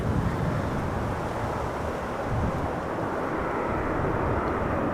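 A nine-year-old Boeing 787-8 Dreamliner arriving from Willemstad, Curaçao after an eight-and-a-half-hour flight passes as a fairly faint, steady broadband rumble and rush, with a wind-like hiss over Kaagbaan runway at Amsterdam Schiphol.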